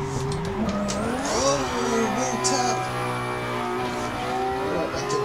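A 400 bhp Nissan 180SX drifts in the Assetto Corsa racing game, its engine droning and shifting pitch steadily with revs, loud and continuous throughout with a faint tire hiss on top.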